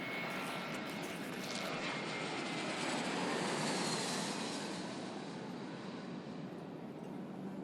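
Airplane flying after takeoff in the video game Genital Jousting: a steady, loud, broadband engine roar that swells slightly near the middle and holds continuously throughout, with no voices.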